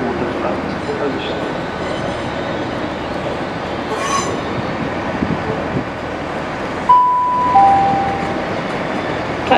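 A train at a platform of Bristol Temple Meads railway station rumbles steadily beneath station noise and voices, with brief high wheel squeals near the end.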